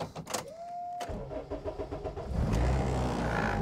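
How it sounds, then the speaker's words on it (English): A K20 engine-swapped Honda Civic EG fires up after a brief electric whine, its engine rumbling steadily and growing louder as the car sets off, heard close and without talk. "let's go for a drive in the EG Civic"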